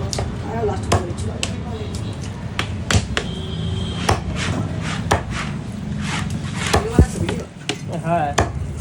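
A Katla fish is chopped into pieces with repeated sharp knife strikes on a board in an irregular rhythm, under steady background noise and nearby conversation.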